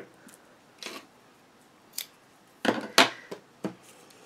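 Scissors snip through small fringe lace trim for a mini paper album, giving a series of crisp, close metallic clicks and cuts with short pauses between them.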